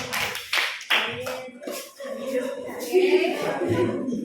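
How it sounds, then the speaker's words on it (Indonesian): Students in a classroom clap their hands, with a few sharp bursts of clapping mixed among voices talking nearby. "tepuk tangan"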